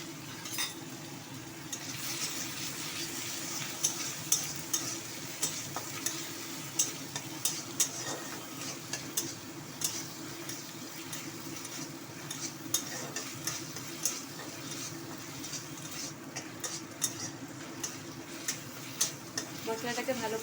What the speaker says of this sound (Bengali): মশলাটাকে ভালো করে ভাজা ভাজা করে নেব।